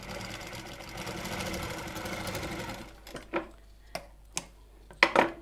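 A sewing machine stitches a blouse, running in one continuous whirring burst for a few seconds, then stopping and starting in several short, sharp spurts.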